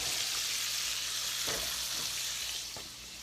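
Butter sizzles steadily in a frying pan, a close, even hiss, with a couple of soft scraping strokes as it is stirred. The frying fades a little near the end.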